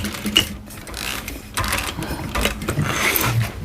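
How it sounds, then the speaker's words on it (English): A sewing machine topstitching a bowler bag runs in a close, steady mechanical whir with ratcheting clicks, keeping on continuously with small changes in speed. "Top stitch at 1/8 of an inch."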